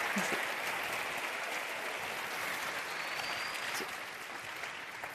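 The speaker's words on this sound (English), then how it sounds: "can I please have a warm applause?" A large audience at the European Youth Event closing gives a warm round of applause. The clapping is a steady, even wash that sounds somewhat distant and soft and holds for about five seconds.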